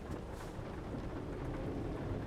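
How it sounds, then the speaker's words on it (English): Steady rain in American Truck Simulator, heard as a constant broadband hiss with a low rumble beneath, even and unbroken throughout. "It's raining."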